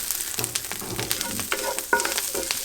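Chickpeas frying in a pan as paprika is stirred in; a close, busy crackling sizzle with intermittent scraping stirs, loud and continuous with no talking.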